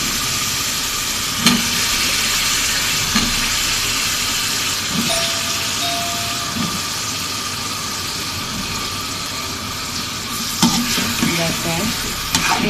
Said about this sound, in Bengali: আমার মশলাটা কষিয়ে আসছে। আমি একে একে লাউ দিয়ে দিচ্ছি।